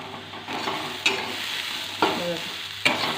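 Sweet corn stir-fried with onion, garlic and masala, a close continuous sizzle with a few distinct spatula knocks against the pan, heard without any voices.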